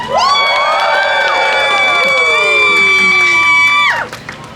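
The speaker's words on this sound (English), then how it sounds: "Thunderous applause from the approving audience." Crowd at a juggling show cheering and whooping loudly after a trick, sustained shouts and high voices including children, some clapping underneath, cutting off sharply near the end.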